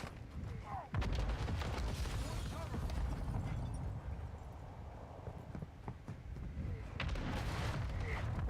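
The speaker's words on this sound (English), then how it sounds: "Hostile mortar strike near your position" Mortar strike explosions land during a Call of Duty Warzone match, with a sharp boom near the start and another heavy blast near the end over a rumbling, busy battlefield bed.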